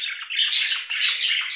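A female budgerigar in a home breeding cage chatters and chirps continuously, with bright, warbling squawks and tweets close by and no pauses throughout.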